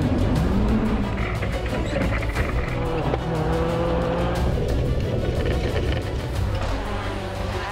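A Skoda WRC all-wheel-drive rally car with 350 hp accelerates hard from the foot of a bobsled track, its engine roaring loud and continuous with rising pitch sweeps and a sharp gear-change bark midway.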